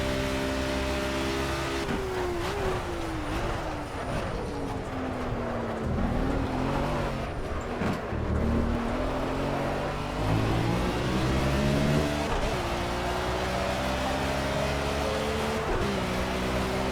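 Race car engine in the Project CARS video game during an M1 Procar event at the Spa circuit, near Blanchimont; a loud, continuous engine that revs up and drops repeatedly as gears shift through a lap.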